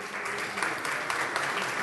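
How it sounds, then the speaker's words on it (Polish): An audience at a parliamentary election debate in Gniezno breaks into sustained applause, a dense steady clatter of many hands heard from within the hall. "To jest miejsce na brawa."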